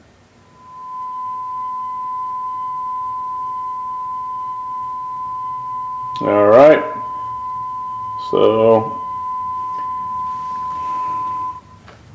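A steady, pure 1,000 Hz sine test tone played from a vinyl test record on a Pioneer PL50 turntable hums unbroken for about ten seconds, while someone speaks briefly over it partway through.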